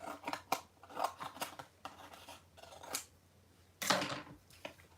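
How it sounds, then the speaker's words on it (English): Scissors trim a piece of yellow card, giving a series of crisp snips and slicing scrapes in an irregular rhythm, close and fairly quiet with no voices. "I'm going to use this piece of yellow card, and let's use it that way. So I'm going to trim off so it will go through my mini."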